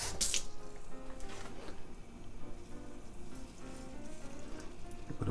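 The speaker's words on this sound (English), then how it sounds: "And a little bit of water" Water running and splashing into a pan holding blackberries, chili and sugar, a steady trickle with a brief louder splash at the start, no voices over it.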